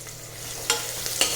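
A spoon stirs finely chopped garlic and fresh coriander frying in a pan, giving a low sizzle with a few soft scrapes and clicks over a short, close stretch.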